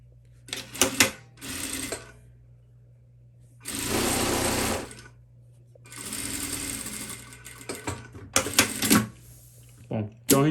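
A sewing machine stitches a seam on fabric for a fly zipper in short rapid bursts of varying length, close and clear, separated by brief pauses.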